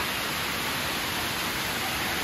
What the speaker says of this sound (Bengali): দেখো কি পরিমাণ বৃষ্টি